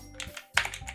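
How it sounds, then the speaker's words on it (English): Key taps on a computer keyboard as a name is entered in Doki Doki Literature Club, a few quick close clicks with no talking. "Okay, I'll type my name"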